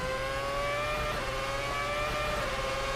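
Simulated Formula 1 race cars from F1 2011 at Silverstone, engines whining at high pitch in a steady, loud, continuous drone as several cars run close together, with no pauses and no voices.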